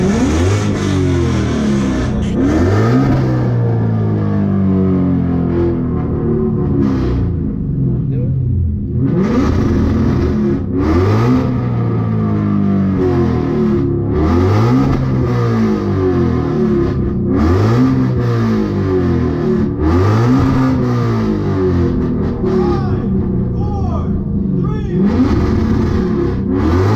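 A 2018 Ford Mustang GT V8 at a car show is revved hard again and again for the whole stretch, loud and close, with rhythmic rises and drops in pitch as the throttle is blipped and released. Crowd noise sits underneath.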